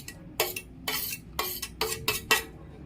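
A spoon scrapes and clinks against a metal pot while ground spice paste with turmeric is stirred in for Khandeshi funke, giving five or six distinct metallic strokes in a steady rhythm.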